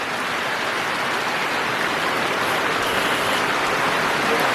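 Heavy unseasonal rain pours down steadily in the Konkan countryside at night, a dense, even roar of falling water that holds at a constant loudness throughout with no voices.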